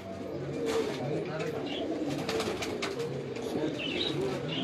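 A fancy Banka pigeon cooing softly in a loft, low repeated coos under steady background noise with faint chirps and occasional wing movement nearby.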